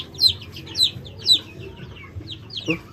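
Native chickens, Rhode Island Reds and turkeys cluck and call nearby in repeated short bursts, with a louder squawk near the end and farmyard rustling underneath.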